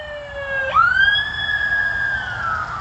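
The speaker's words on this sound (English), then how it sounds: "As the siren goes by." An emergency vehicle siren passes by on a street, a rising wail that sweeps up sharply and then holds a long steady tone with faint harmonics, moderately loud over low traffic rumble and without speech.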